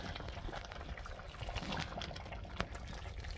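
Pork gravy bubbling at a rolling boil in a clay pot, a soft, continuous close-up blipping and gurgling with irregular pops.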